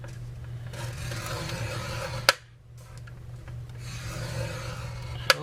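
A scoring tool is drawn along paper at a one-inch mark while folding a double-fold gift box, giving a steady soft rubbing rasp with two sharp clicks from the tool, fairly close and with no talk.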